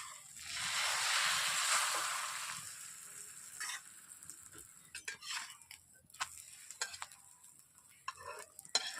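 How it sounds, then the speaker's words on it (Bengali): An egg paratha frying in a pan gives a soft broad sizzle for the first couple of seconds, then settles into quiet scattered ticks and crackles, faint and close, with nobody speaking. "ডিম দেওয়ার পর আমি একটু লালচে করে ভেজে নিচ্ছি"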